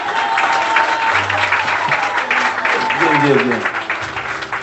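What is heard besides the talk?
audience applause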